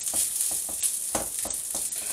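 Corned beef and white rice fry in a hot wok: a steady close sizzle broken by regular scraping stirs as the spatula breaks up rice lumps, with no talking.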